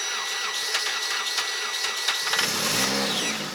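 A Chery Eastar car engine is revved gently in neutral with the brake held, a dense mechanical whir that swells and rises in pitch toward the end.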